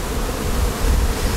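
Honey bees in a queen-rearing hive produce a dense, continuous buzzing hum, loud and close, with no voices.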